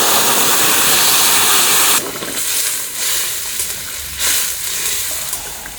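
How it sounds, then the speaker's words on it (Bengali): Cumin, dried chili and bay leaf hit hot oil while tempering for a giant taro curry, giving a loud, dense sizzling hiss for about two seconds that then settles into a quieter, steady crackle. No voices are heard. "ফোড়নে দেবো তেল, জিরে, শুকনো লঙ্কা, তেজপাতা।"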